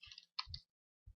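A computer mouse gives a few sharp, quiet clicks, an irregular cluster of three closely spaced taps followed by a single click after a short pause.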